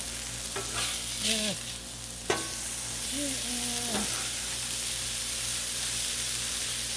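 Burgers sizzle on a Blackstone griddle, a steady frying hiss throughout, broken by a few scraping, stirring sounds of a spatula, one sharp clank and brief tonal squeaks up close.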